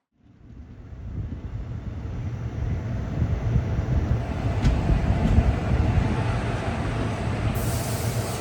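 A train running toward Mettupalayam, heard as a steady low rumble and rattle rising from near silence within the first second and holding loud and continuous, with wind-like noise over it.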